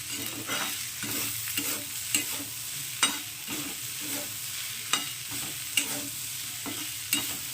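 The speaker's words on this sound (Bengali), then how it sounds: "লবণটাকে খুব ভালো করে মিশিয়ে নেবো" Salt being stirred into Malabar spinach and potatoes frying in a pan, with a steady sizzle under repeated scraping strokes of a spoon and a few sharper clacks against the pan, close up and without talk.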